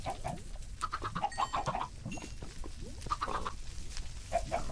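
Chickens in Minecraft cluck in short, repeated bursts against a busy low background, with bright clucking phrases clustered near the start and again near the end.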